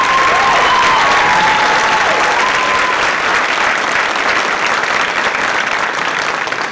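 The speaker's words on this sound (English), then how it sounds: "Would you give them one more round of applause?" An audience at a high school spring chorus concert in East Brunswick claps steadily, a dense, loud sustained round of applause that carries on without a break.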